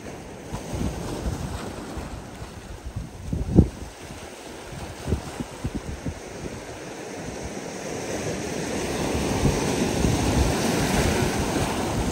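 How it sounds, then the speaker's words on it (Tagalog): Strong ocean waves roll and break near a boat at sea, with irregular crashes and surges under heavy wind buffeting the microphone, building louder toward the end. "Medyo malakas yung alon."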